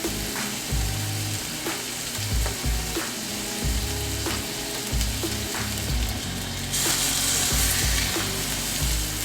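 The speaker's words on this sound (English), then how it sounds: "you're just gonna cook this on medium for about 2 minutes on each side" Oval Salisbury steak patties fry on medium heat, a loud close sizzle with crackles and a few bumps and scrapes in the pan, with no voices.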